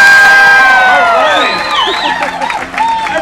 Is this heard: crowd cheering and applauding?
yes